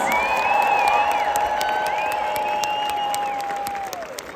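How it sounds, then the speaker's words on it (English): A large crowd at the UW Badger Bash game-day event with the marching band alumni applauds and cheers loudly and continuously, with sustained tones ringing over the dense clapping before it slowly fades. "a much louder round of applause."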